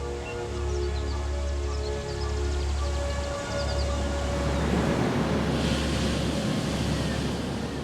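Steady ocean surf rolls in continuously with a broad washing roar, loud and close, with low wind rumble underneath and no voices.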